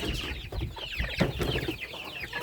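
Young chickens cluck and chirp busily close by as they eat a mash of boiled potato with nettle and onion. Short, overlapping calls come in quick irregular bursts over soft scratching and pecking.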